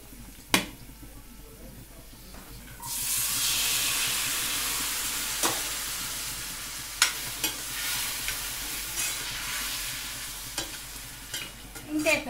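Boiled, salted sweet corn kernels frying in a pan, stirred with a spoon: a loud sizzle bursts in after a few seconds and continues, punctuated by sharp scraping and tapping of the utensil against the pan.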